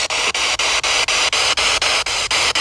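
A spirit box sweeps radio static during a paranormal investigation at the abandoned Coxville Zoo. A loud, steady hiss is chopped by regular brief dropouts about every quarter second as it scans channels.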